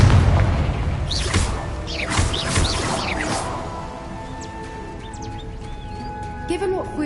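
A Confringo spell blast in a PS5 Pro video game bursts loudly at the start, then rumbling debris and scattered bird-like chirps and whistles fade under a voice.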